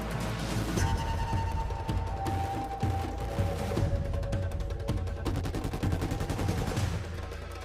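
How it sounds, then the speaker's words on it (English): A sharpshot bow with no coils in a video game loads and fires with sharp, punchy releases over a busy layer of game effects and background noise, close and loud throughout. "the sharpshot bow with no coils loads and fires way slower than the Forge Fall we have"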